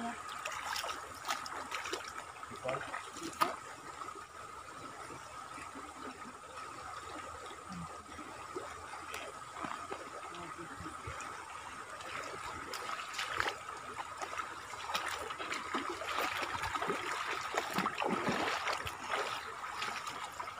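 Flowing river water at Tibagan Falls on the Pasong Buhangin river, a steady broadband rush with a continuous trickling texture, fairly close and even throughout, with no talk over it.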